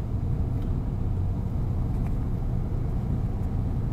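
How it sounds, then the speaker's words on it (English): Low, steady rumble of idling and creeping cars in a downtown Atlanta traffic jam, heard from inside a vehicle as a constant engine drone with no speech. "This is a real downtown Atlanta traffic jam"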